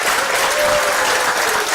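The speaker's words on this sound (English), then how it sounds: "Can we have the loudest round of applause to begin with?" A conference audience gives a loud, dense round of applause, a continuous wash of clapping with no gaps.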